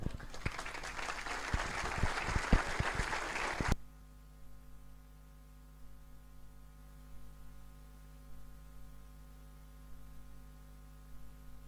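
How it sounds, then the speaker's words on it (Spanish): Spontaneous applause from an audience after a talk on biologicals in extensive crops, a few seconds of dense clapping that cuts off abruptly into a low electrical hum. "el aplauso salió espontáneo"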